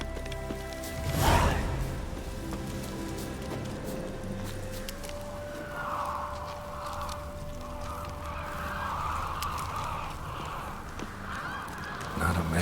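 Geese honk in The Witcher 3, a loud burst near the start followed by quieter calls over steady game ambience and a sustained tone.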